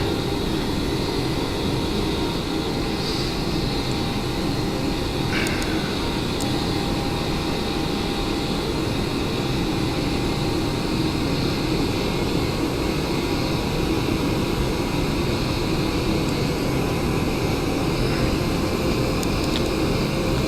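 A Cessna Citation X business jet taxiing in a flight simulator game, a steady, loud, unbroken engine roar and whine that holds evenly throughout with no talking.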